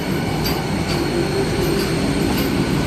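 A Chennai AC suburban electric local train with a new Kolkata-built ICF rake runs steadily, a continuous close rumble of wheels and car noise with faint squeal and no voices.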